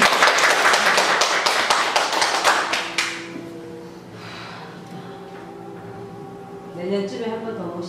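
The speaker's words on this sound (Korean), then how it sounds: "다음에 오실 때는 자꾸 박수!" Brisk clapping from a small group at a florist lesson lasts about three seconds, then fades into a quieter room where voices talk.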